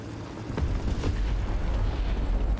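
Bombs detonating in the War Thunder video game, a heavy low rumbling boom that swells in after half a second and rolls on loudly to the end, with no clear separate blasts.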